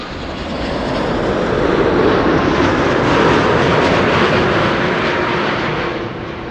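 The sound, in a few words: Delta Boeing 787-10 Dreamliner landing at Amsterdam Schiphol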